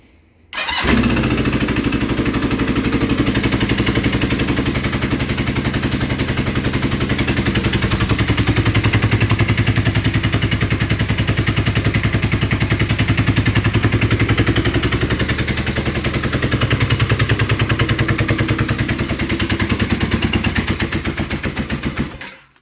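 A Kawasaki KZ440 motorcycle engine fires up with its choke on and runs loud and close for about twenty seconds, a rapid uneven chatter of pops and backfires under a ragged roar.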